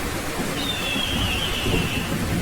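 A cartoon thunderstorm rumbles as a low, steady wash of rain and distant thunder, with a thin whistling tone drifting across the middle.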